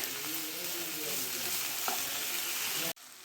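Ginger and garlic frying in a pan, a dense, even sizzle close up with a faint stir near the end before the sound drops abruptly.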